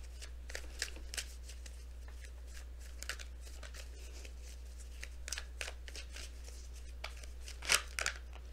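Oracle cards shuffled for a tarot reading, soft riffling bursts repeating at an uneven pace, close and quiet, with a sharper flurry near the end and no talking.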